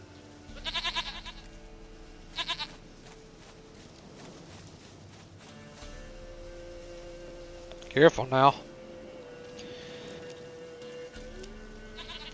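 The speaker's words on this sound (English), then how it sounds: "Goat of mine, dearest, sweetest goat." A goat in The Witcher 3 video game bleats in short separate bursts, two early and a louder, wavering cry later, with a voice speaking briefly between them over quiet background music.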